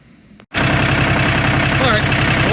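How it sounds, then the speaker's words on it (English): Cabela's LM36 / TYM compact tractor engine starting up after a brief quiet moment, then running steadily in a loud, close, rhythmic idle with a voice under it. "hopefully you hear me over the tractor well."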